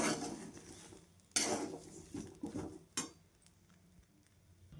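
Amla being dry-roasted in salt in a pan and turned over, giving scraping, rattling clatter with a few sharp clinks and brief louder bursts, close by and moderately quiet, no talking.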